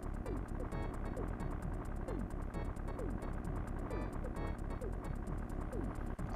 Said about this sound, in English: My helicopter's flying away.